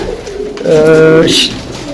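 A pigeon kept by a fancier gives one close, deep rolling coo, with brief noise before and after it and a voice nearby.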